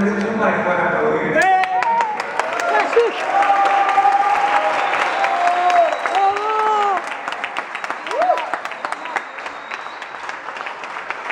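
Audience applause, lively clapping from a crowd with cheers and shouting voices mixed through it, building then thinning out toward the end.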